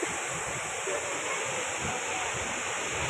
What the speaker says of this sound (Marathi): हा धबधबा बघा रे